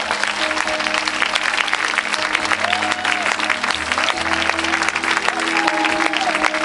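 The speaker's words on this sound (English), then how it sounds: "clap your hands to the Lord" A congregation claps steadily and densely throughout a worship service in Barbados, with sustained musical tones ringing underneath the continuous clapping.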